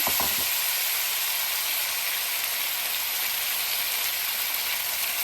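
Whole spices (bay leaf, mace, green and black cardamom, cinnamon) frying in oil, giving a steady, dense, bright sizzle that holds loud and even throughout, with no talk.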